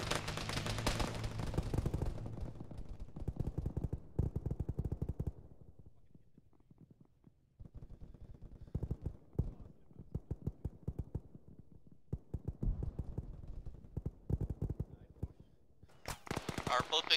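Gunfire in the military video game Arma during a ShackTac session, with bursts of rapid automatic fire and single shots that come in clusters and stop during a short lull. Players talk over radio throughout the shooting.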